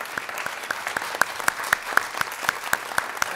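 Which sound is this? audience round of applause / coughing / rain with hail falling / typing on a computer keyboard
audience round of applause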